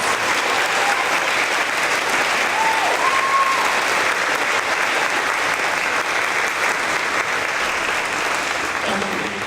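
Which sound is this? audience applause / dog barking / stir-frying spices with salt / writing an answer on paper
audience applause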